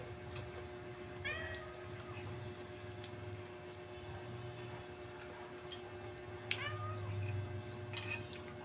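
A cat waiting for food meows a few times, soft and somewhat distant, with short calls spread over a quiet background hum.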